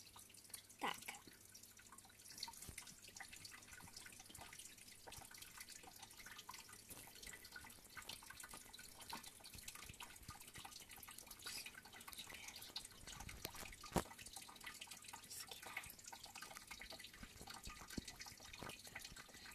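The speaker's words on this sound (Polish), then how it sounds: "jakbyście słyszeli wodę, to ta woda to jest od Suwicka. Tak, bo mamy żółwia." Water in a pet turtle's tank, a quiet, continuous trickle with scattered drips and splashes running steadily throughout at low level, with no talk over it.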